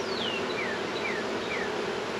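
Honey bees buzz steadily around an open hive, a continuous close insect drone with several wingbeat whines sweeping past in turn, and no voices.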